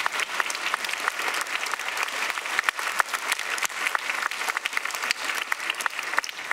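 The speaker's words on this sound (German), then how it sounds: "Auch Applaus, ja." Sustained audience applause fills a hall during a panel event at the Landtag of Baden-Württemberg, dense steady clapping from a crowd, loud and continuous with scattered sharper claps throughout and no speech.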